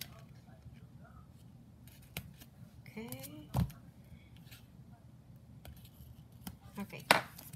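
Cutting open a taped package with scissors, several short crisp snips and rustles scattered over a quiet room, with a voice speaking briefly in the background.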